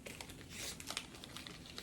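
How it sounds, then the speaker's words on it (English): A Reese's candy wrapper is torn open and crinkled in short, faint, crackly bursts, with quick rustles and small snaps over nearly two seconds. "So you're gonna open up your Reese's"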